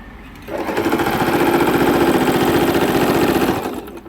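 A Singer M3505 sewing machine stitches a straight stitch at length 2 in one steady, close run of about three seconds, with a faint hum before and after.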